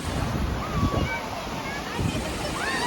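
Sea waves wash in at Miramar beach in Goa, a rolling surf with wind buffeting the microphone and a voice talking over it.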